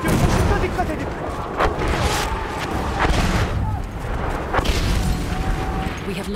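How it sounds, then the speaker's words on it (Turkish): A thrown bomb explodes amid the chaotic combat of Battlefield 1 on Cape Helles, with continuous booming gunfire and battle noise throughout and voices talking over the din. "Bomba atıyorum, şurada dikkat edin."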